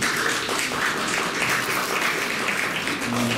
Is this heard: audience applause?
yes